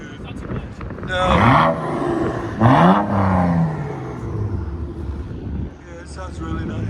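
A loud exhaust note from a 2010 BMW 135i 3.0L inline-six running straight pipes, two strong revs climbing and dropping back close together, then settling into a throaty idle nearby.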